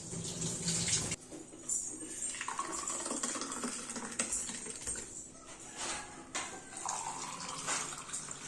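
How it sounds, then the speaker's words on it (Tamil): Juice pours into a glass at home in a steady splashing stream, with a few pauses and clinks. "ஜூஸை ஊற்றிடலாம்."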